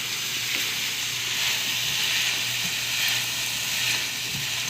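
Sliced carrots sizzle in hot olive oil in a cooking pot as they are stirred. A steady, bright frying hiss runs throughout, broken by faint scrapes from the utensil, and no one speaks.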